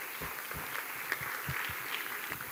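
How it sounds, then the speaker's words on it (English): An audience at a forum on sustainable agriculture applauds the first panel, a soft, steady wash of clapping heard from a distance over a hollow room hum. "Please join me in giving a big applause for this first panel."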